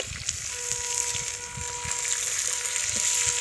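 Chopped onions frying in a pan for a broccoli and mushroom dish, giving a steady close hiss of sizzling oil with soft, irregular knocks of stirring underneath.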